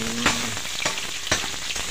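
Pieces of meat browning in hot oil for Ilocano-style monggo, giving a dense, loud sizzle broken by a few sharp stirring scrapes.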